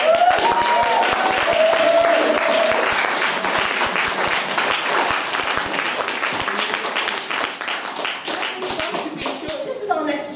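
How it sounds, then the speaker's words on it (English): Sustained loud applause from a crowd, including girls, at a plaque unveiling at Blackburne House, Liverpool, marking 100 years of women's votes; dense clapping runs throughout, with voices mixed in. "Another round of applause."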